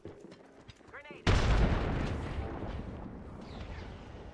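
A grenade explodes in a video game, one sudden loud blast after a brief spoken word, followed by a long rumbling decay.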